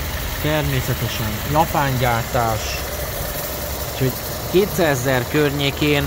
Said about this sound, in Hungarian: ott is meg tudjátok hallani a motorhangot